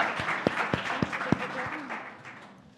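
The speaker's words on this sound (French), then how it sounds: "oui, on peut les applaudir" Audience applause rises after a speaker's thanks at a French business talk, a short burst of scattered claps from a modest crowd that fades out within a few seconds.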